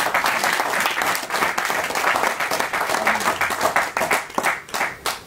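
A church congregation applauds, sustained loud clapping from many hands with scattered voices mixed in, fading slightly toward the end.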